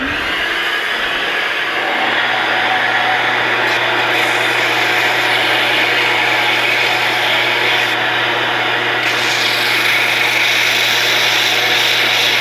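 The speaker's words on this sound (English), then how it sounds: "I'm going to turn the vacuum on." A shop vacuum switches on beside a running wood lathe, its whine joining a steady motor hum and then droning loud and continuous to the end.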